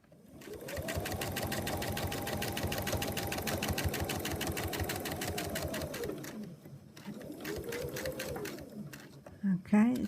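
Sewing machine stitching fabric runs in a fast, even mechanical rattle for about six seconds, pauses, then runs again in a shorter burst; a voice speaks softly at points.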